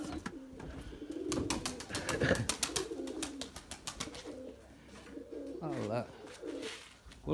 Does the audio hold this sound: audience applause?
no